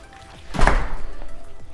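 A wide 8-foot door in a new home thunks shut once with a dull, close thud, and quiet room sound continues afterward.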